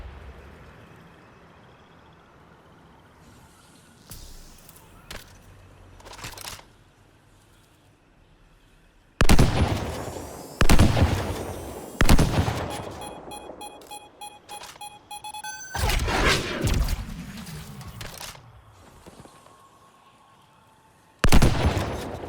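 Gunfire from a turret in the video game Anthem: loud bursts of rapid shots arrive in several separate volleys mixed with electronic beeps and game effects, close and harsh, with no talking.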